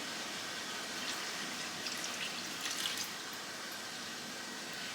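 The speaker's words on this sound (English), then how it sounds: "Now, to that I'm going to add 2½ cups of cold water." Cold water pours steadily into a pot for apple pie filling, a continuous soft hissing splash without pause.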